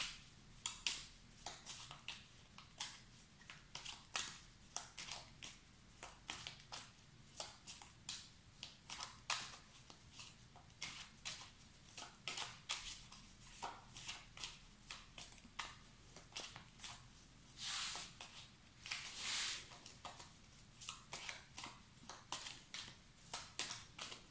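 Tarot cards shuffled and drawn during a full moon reading, repeated soft riffling and slapping bursts of card stock in an irregular rhythm, close and fairly quiet, with no one talking.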